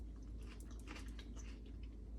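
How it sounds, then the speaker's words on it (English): Close chewing and crunching of kohlrabi in a buttery homemade chow mein, with steady, moist bites running continuously through the short stretch and no talking. "with that crunch from the kohlrabi"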